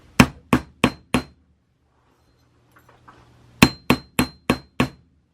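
A jewellery piece is hammered flat on a steel bench block: four sharp, ringing metallic strikes in quick succession, a pause with faint handling noise, then five more evenly spaced blows, close and loud.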